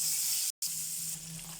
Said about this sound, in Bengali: তেল গরম হয়ে গেছে, দিয়ে দিলাম মাছ।